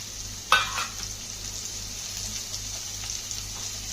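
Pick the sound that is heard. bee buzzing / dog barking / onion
onion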